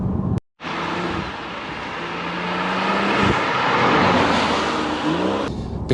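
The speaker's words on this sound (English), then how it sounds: "I will flick it into sport next and just feather that accelerator just to see what that sport button does" A BMW M140i Shadow Edition in sport mode revs under light throttle, its engine note rising smoothly and swelling into a loud, sustained drone after a brief cut, heard close with no talking.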